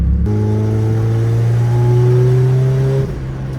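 A fully built turbocharged Honda Civic engine with the full exhaust removed revs up loudly and close, its droning tone climbing steadily for about three seconds before dropping back to idle.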